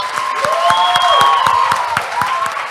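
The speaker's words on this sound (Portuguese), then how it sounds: "Uma salva de palmas para os nossos convidados." Guests at a school career fair get a dense, steady wash of audience applause that fills the room, with sustained whooping or whistling tones riding over the clapping throughout.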